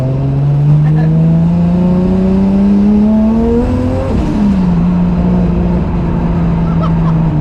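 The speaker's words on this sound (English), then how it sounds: "That wastegate's the best noise ever." A 635 bhp turbocharged 2JZ-powered Nissan Silvia S15 Rocket Bunny heard from inside the car: the engine drone climbs steadily under load, then a sharp chattering wastegate release as the throttle lifts and the revs fall, loud and close.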